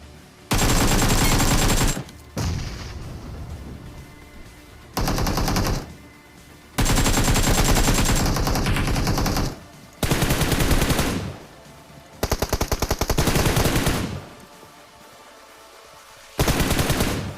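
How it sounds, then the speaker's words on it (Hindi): Automatic gunfire in the mobile game BGMI, repeated loud bursts of rapid shots lasting one to two seconds each, separated by brief quieter gaps. "धर्राटे काट रही थी इसकी बंदूक"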